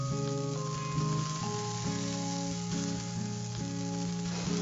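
Turmeric, ginger and homemade chili powder masala sizzles steadily as it roasts in a hot pan, a continuous frying hiss that sits under prominent background music.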